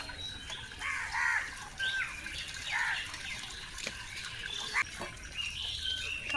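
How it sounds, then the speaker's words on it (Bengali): Crows and other birds calling in the morning in a rural village yard, several distinct caws and chirps at moderate distance over a faint trickle of water and quiet outdoor ambience. "সকালবেলা দেখো কাক ডাকছে, পাখি ডাকছে।"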